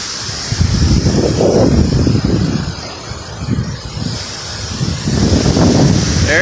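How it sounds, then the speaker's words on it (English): Strong wind gusts from Hurricane Irma, northeast of Tampa, roaring steadily against the microphone and swelling in repeated surges, loud and close, with no speech. "Here's a gust. There's a gust."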